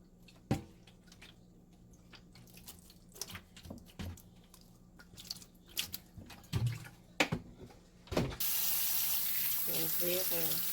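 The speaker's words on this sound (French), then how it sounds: "Je vais laisser couler l'eau légèrement." A kitchen faucet is opened to rinse fruits and vegetables such as green and red bell peppers after a white-vinegar soak; after scattered handling clatter, a steady, fairly loud stream of running water takes over near the end.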